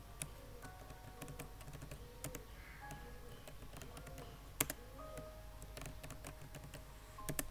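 Computer keyboard typing while HTML form code is entered, a steady patter of quiet key clicks with a few sharper taps, alone and close at low volume.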